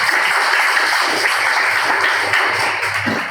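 Church congregation clapping together during a worship service, a dense, steady wash of many hands that stays loud throughout and only softens slightly near the end.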